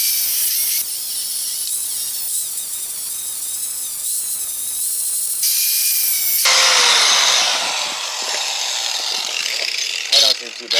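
A Stihl-powered cutting tool rigged on a razor scooter bites into and cuts off a small weld, a harsh, high screeching hiss that shifts pitch and grows louder and rougher midway, close by.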